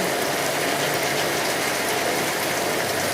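Steady rain pours down as a dense, unbroken hiss that stays even and fairly loud throughout, with no voices.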